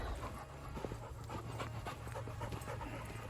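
Dogs pant steadily at close range, a continuous quick rhythmic breathing with small whimpery catches, heard on a homestead kitchen stop before feeding time.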